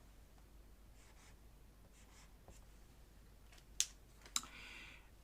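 Hand writing numbers during long division: quiet pen or pencil strokes scratching in short bursts on paper, near and faint, with a couple of sharper taps at the end and no talk.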